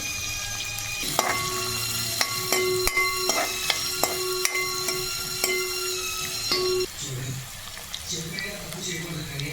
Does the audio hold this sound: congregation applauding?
no